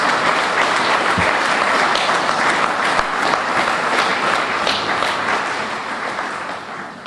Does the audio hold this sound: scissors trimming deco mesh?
no